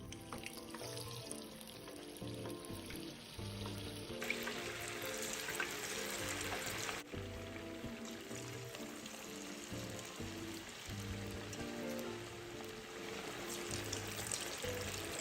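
Thick chunks of meat deep-frying in hot oil over medium-low heat, a steady, close bubbling sizzle that continues without a break and without talk.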